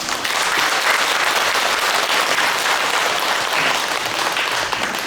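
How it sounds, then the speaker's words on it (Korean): Sustained, dense applause from a large temple audience at a Buddhist dharma talk honoring a monk, a steady even roar of many hands lasting several seconds, loud and unbroken. "애를 쓰신 송모 스님께도 박수 한번"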